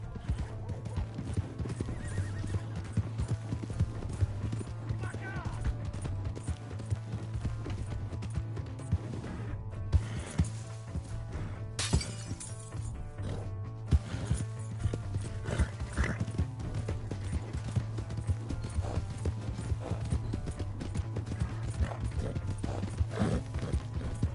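A horse in a video game gallops with a steady, continuous clip-clop of hooves and neighs at points along the way, carrying on throughout without any speech.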